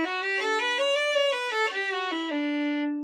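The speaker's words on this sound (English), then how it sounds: "see if you can play the whole scale up and down in just one bow" A bowed string instrument plays a complete scale up and down within a single bow, the notes stepping smoothly in pitch, clear and solo with no other sounds.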